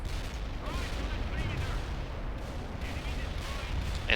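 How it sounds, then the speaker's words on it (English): Heavy artillery fire in the real-time strategy game World in Conflict, a dense continuous rumble of booms and gunfire that stays loud throughout, with a voice talking over it. "heavy artillery just shot half of my tanks"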